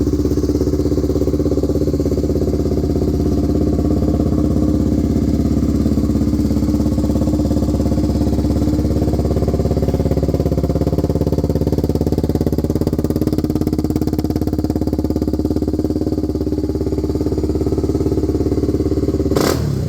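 A custom Honda ATC350X three-wheeler engine runs loud and close, a steady throbbing motor with slight rises in revs, continuous for about twenty seconds with no talking.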